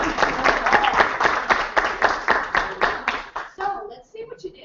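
Lively group applause at a youth tech camp's final presentations, loud rhythmic clapping from a room of people with some voices mixed in, thinning out near the end.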